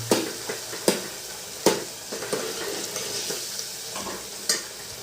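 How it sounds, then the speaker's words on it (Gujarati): A village-style dambha vegetable curry with curd is stirred in a pan, with sharp spoon-against-pot clacks every second or so over a low, steady sizzle, close by. "મિક્સ હવે આપણે મિક્સ કરી નાખીએ બધું"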